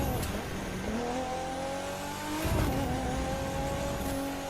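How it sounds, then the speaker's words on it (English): An Infiniti Q60 Black S concept car in The Crew 2 racing game revs hard, its engine note climbing and surging with a steady, smooth whine through a short burst. "The sound of the engine looks so very amazing to have this very good concept car to be added in the Crew 2"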